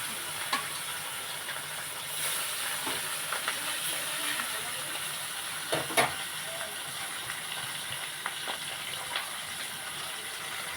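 Fish pieces fry in hot oil with a steady, close hiss and sizzle. Scattered small pops and crackles break through the constant frying noise throughout.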